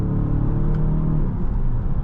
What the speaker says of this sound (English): the drive is, as you can see, the acceleration's flawless